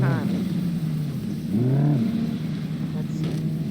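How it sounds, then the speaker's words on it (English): In the BeamNG.drive video game, a damaged car's engine revs after a crash in a couple of short surges that rise and fall, moderately loud, with a voice talking over it. "Let's see if our car can still move."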